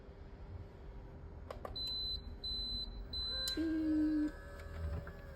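A Patch Crafters dual heat press gives a series of short electronic beeps and tones while pressing a patch, heard close amid faint room noise.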